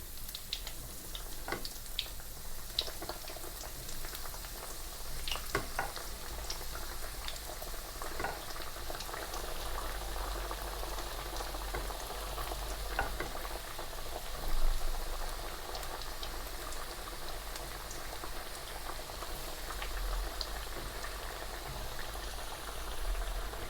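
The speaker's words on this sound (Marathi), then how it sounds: "चला हे तेल निघतेपर्यंत आपण वड्या टाकून घेऊया" Coriander fritters (kothimbir vadi) frying in oil, a soft continuous bubbling crackle with scattered pops, fairly faint and steady over the whole stretch, no talking.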